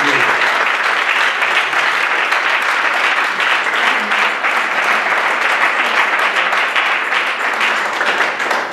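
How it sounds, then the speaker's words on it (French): A church congregation at a New Year service at the Assemblée Chrétienne Bérée breaks into loud, dense, sustained applause that fills the room without pause. "Et nous applaudissons très fort."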